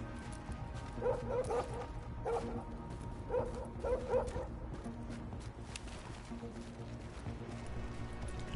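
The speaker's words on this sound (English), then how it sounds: "Can I shoot this dog?" A dog barks and yips in the video game The Division, several short bursts in two clusters over a steady ambient game hum, at moderate distance with no one talking over it.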